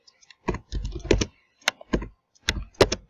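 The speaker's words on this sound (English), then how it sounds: "I think this is a lot of typing." Typing on a computer keyboard while writing website code, close and clear bursts of rapid key clicks separated by short pauses.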